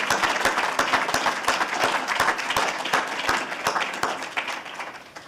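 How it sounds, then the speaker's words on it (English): A live audience at a Shabbat lunch-and-learn gathering gives a sustained round of applause, with dense, steady clapping from many hands that tapers slightly near the end. "let's give another round of applause"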